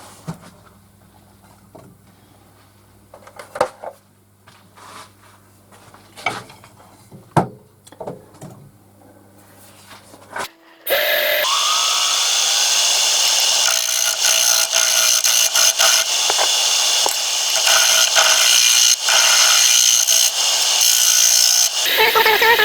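Pitch pine bowl being hollowed out on a wood lathe, a loud continuous whirring cut that starts abruptly partway through after quieter bumps and knocks, then holds steady to the end.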